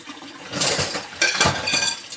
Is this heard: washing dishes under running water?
yes